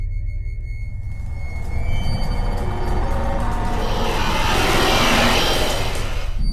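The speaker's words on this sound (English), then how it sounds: "That sound that you just heard is Rush's static, and whenever you hear the sound getting louder, Rush is getting near." Rush's static in the Roblox game Doors, a harsh, hissing static roar that swells steadily louder as if approaching, rising out of a low rumble and filling the scene.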